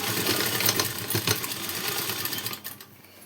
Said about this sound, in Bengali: তো আমি সেইভাবে সেলাই দিয়ে নিচ্ছি।